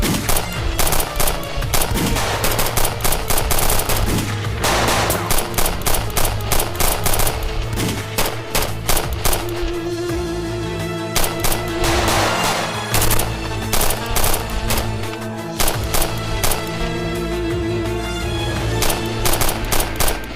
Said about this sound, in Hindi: मैं ठीक हूँ, तुम बस फायर करते रहो, इन्हें आगे ना बढ़ने देना।